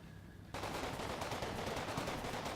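Sustained machine gun fire in the World War II tactical game Combat Mission: Battle for Normandy, a dense continuous rattle of rapid bursts starting abruptly and running loud without pause, with no talk over it.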